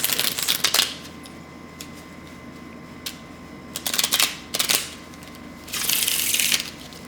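Stiff index-style cards are shuffled on a table in a few crisp riffles, each a short rattling burst separated by quiet pauses, close and fairly faint.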